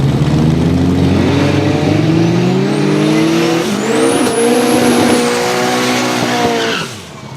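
A Volvo 142 drag car makes a hard, loud run at a motor festival drag strip, its engine revving and climbing through gears with tire squeal. The roar stays steady and close, then cuts off abruptly near the end.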